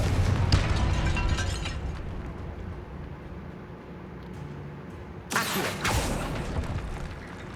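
A Confringo spell explodes in Hogwarts Legacy near a sarcophagus and altar with a loud boom, followed by a low rumbling tail and then a second sharp burst about five seconds later.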